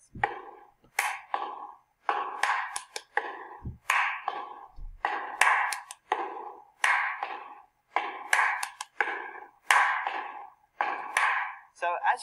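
A drummer plays a short drum kit fill, sharp percussive hits in repeated bursts with cymbal-like wash, close and fairly loud, arriving in an even rhythmic pattern over about twelve seconds.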